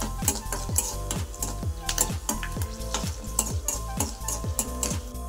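Raisins and cashews frying in hot oil for fried rice, a steady close sizzle broken by regular rhythmic stirring scrapes of a utensil against the pan, with no voices.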